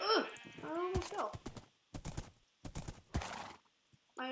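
A horse in a video game: hoof clip-clops and a whinny near the start, followed by irregular bursts of hoofbeats with brief pauses between them and another whinny at the very end.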